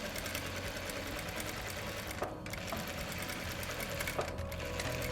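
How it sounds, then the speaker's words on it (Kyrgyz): A sewing machine runs over a sarafan dress seam, adding a second line of stitching on top. It gives a steady, close, continuous mechanical whir with faint rhythmic knocking throughout, and no one speaks. "Тигип алганыбыздан кийин үстүнөн дагы бир тигиш беребиз."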